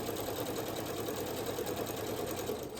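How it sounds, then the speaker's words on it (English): A sewing machine runs in a quick steady whir while back stitching braided placemat fabric, a fine rapid needle clatter at moderate volume, continuous and with no voices. "You want to back stitch a lot with these."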